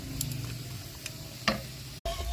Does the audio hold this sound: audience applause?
no